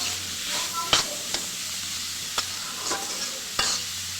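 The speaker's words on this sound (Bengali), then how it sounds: "শাকটা বাগার দিয়ে দিলাম।" Leafy greens are tempered and fried in a pan, a close, steady sizzle broken by sharp stirring scrapes about once a second, with no talking.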